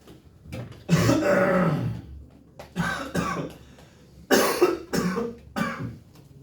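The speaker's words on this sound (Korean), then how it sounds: "기침나네요." Several harsh coughs close to the mic, one long fit followed by shorter bursts, no speech.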